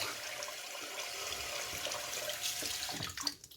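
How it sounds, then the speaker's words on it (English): A razor gets rinsed under a running tap while shaving, a steady close hiss of flowing water splashing into the sink, ending with a few short clatters and splashes as the flow cuts off. "Get a rinse here."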